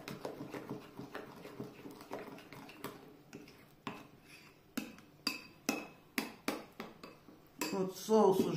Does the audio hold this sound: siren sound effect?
no